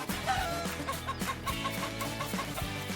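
A farm chicken clucking in short repeated bursts over a steady background bed, fairly close and with no one talking.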